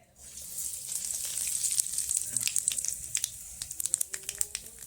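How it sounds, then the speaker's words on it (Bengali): Black cumin seeds dropped into hot oil left over from frying bhola fish burst into a bright, close sizzle that rises quickly, then crackles and pops irregularly as it settles, with no talking. "একই তেলে দিয়ে দিচ্ছি কালো জিরে"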